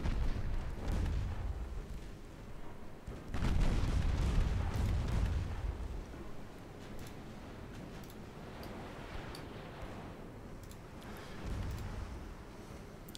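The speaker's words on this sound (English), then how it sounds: "Right, lay alongside. Start battering them." Ships battering an enemy in a Greek naval battle video game give deep booming impacts and rumbling blasts in uneven bursts, loud at first and then fading to a lower, steadier rumble with scattered cracks.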